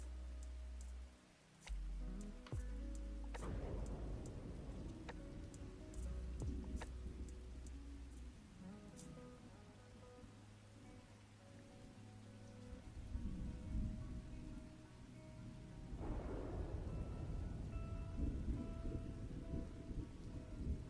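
Steady rain pours through a soft thunderstorm ambience in the game SpiritCity: Lofi Sessions, with low rolling thunder swelling in the middle and again toward the end.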